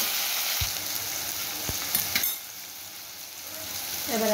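Spices frying with turmeric and salt in a pan give off a soft, continuous sizzle, with a few sharp clinks of a spoon against the metal as they are stirred.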